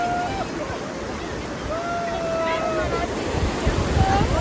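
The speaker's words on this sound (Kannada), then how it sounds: "ನೋಡಿ ನೀರು ಹೆಂಗೆ ಬೀಳ್ತಾ ಹೋಗ್ತದೆ" Nipli Falls, a waterfall near Jog Falls, pours with a steady, close broadband rush of water. Faint voices and thin whistle-like tones drift over the roar.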